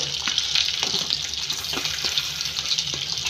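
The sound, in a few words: crab and ground masala roasting in a pan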